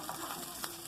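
Fat melts and fries in a pan for feijão tropeiro, making a loud, steady sizzle and crackle close up with no one speaking.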